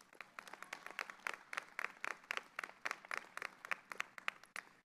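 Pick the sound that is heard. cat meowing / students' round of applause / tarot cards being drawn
students' round of applause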